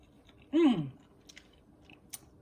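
One crisp bite into a cheese and mushroom omelette, followed by a few faint, soft chewing clicks in a quiet room.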